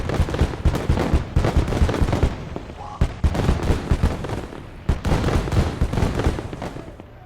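Tank cannon and gunfire in the Kelly's Heroes war game: a rapid, loud series of sharp blasts and bursts, repeating in clusters with brief gaps, close and dominant.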